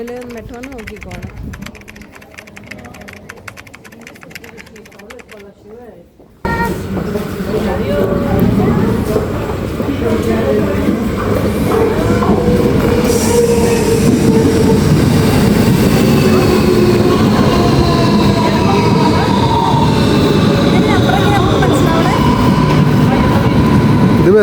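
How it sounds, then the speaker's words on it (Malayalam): A Madrid metro train pulls into the station with a low engine rumble and rising roar that swells after a quiet opening and then holds loud and steady, with some voices underneath. "മെട്രോ നോക്കിക്കോണം."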